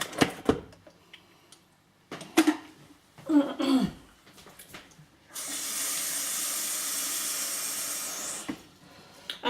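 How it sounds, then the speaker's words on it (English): Tap water runs steadily into a container for about four seconds during preparation of a vegan almond, chia, linseed and cocoa spread in a kitchen, following scattered clinks and handling noises; close and fairly loud, with no talking. "I think I will have to add a little more water."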